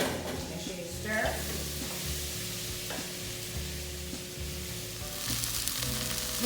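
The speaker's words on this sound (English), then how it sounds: "we're going to add in our onions. We want to saute those until they're translucent." Onions and garlic saute in a pan for a vegetarian bean soup, making a continuous close sizzle with occasional stirring scrapes and clinks, and no talking.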